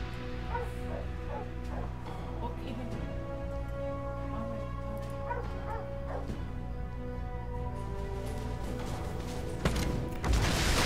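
Several dogs yip and whine steadily across a busy background of overlapping tonal sounds, with a brief crash near the end, the barking moderately loud throughout.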